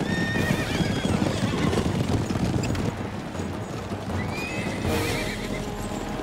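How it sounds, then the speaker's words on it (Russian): Racing horses neigh loudly over a continuous clatter of galloping hooves, with gusts of wind across the microphone. "Эти лошади заколдованы!"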